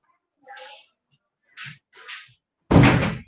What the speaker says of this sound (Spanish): voy a cerrar la puerta porque hay ruido de fondo